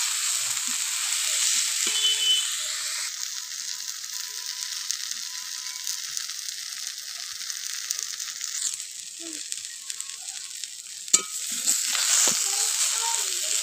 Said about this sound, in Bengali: আমি ভালো করে বারবার নেড়েচেড়ে মিশিয়ে নিচ্ছি।